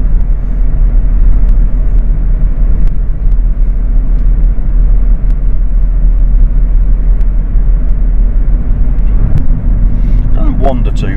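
A third-generation Jeep Grand Cherokee WK with the 3-litre diesel pulls along a road, a loud, continuous low engine and tyre rumble heard from inside the cabin.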